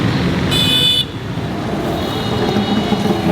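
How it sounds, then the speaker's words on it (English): Busy street traffic on a food street in Karachi rumbles loudly and continuously, with a sharp car horn blaring for about half a second near the start and more vehicle noise passing close by. "it is very, very hectic. So many cars driving by, so many sounds"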